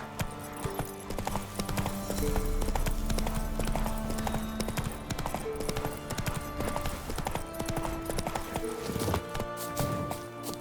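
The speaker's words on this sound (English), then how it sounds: "Run, Roach" A horse galloping in the video game The Witcher 3: Wild Hunt, rapid rhythmic hoofbeats with game music and ambient sound underneath, steady throughout.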